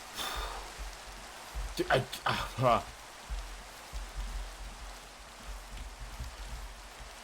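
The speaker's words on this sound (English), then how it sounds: "This rain is so loud." Steady, dense rain pours down in the Minecraft video game, a continuous hiss that runs the whole time while someone briefly speaks over it.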